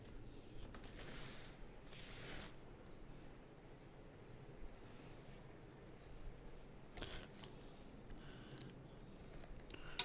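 Faint ratcheting and clicking from a screwdriver as screws are driven into a bracket during a new PC build, with irregular bursts of turning and no voices.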